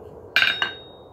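Two sharp metallic hammer blows ring out as a smith forges hot 5/8 inch round bar stock, the first louder, each leaving a brief bright ring.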